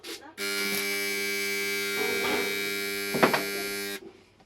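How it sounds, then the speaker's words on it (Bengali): A spot welding machine runs with a steady, loud electrical buzz for about three and a half seconds, broken by a couple of brief crackling bursts, then cuts off abruptly. "স্পট ওয়েল্ডিং মেশিনটা কীভাবে কাজ করে আমি আপনাকে একটু দেখাচ্ছি"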